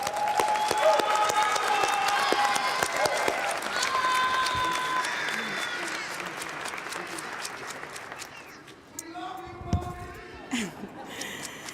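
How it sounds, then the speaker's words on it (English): A large audience at a family reunification ceremony applauds loudly and steadily, with cheers and whoops rising over the clapping before it thins out near the end, where voices and scattered claps remain. "Let's give her a great applause."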